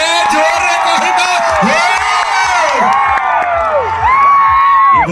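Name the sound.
crowd cheering and applauding at live concert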